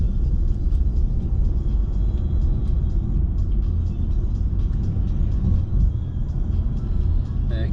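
Steady, loud road rumble and engine drone from inside a car driving slowly along residential streets around Ruchill Park in Glasgow, continuous with no clear breaks.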